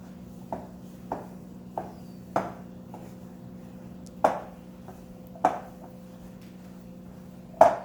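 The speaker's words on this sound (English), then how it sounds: "while you stir with the bottom end of your spoon so it's easier to get the" A spoon's bottom end knocks and scrapes in a bowl while stirring water into bread dough, giving sparse, sharp taps at irregular intervals over a low steady hum.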